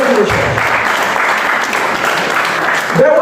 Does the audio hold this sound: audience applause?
yes